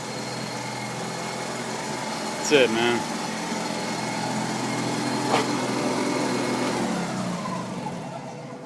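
Honda EX5500 generator, a former studio rental unit, idling on auto throttle with no load, a steady close engine drone under brief talk from a man.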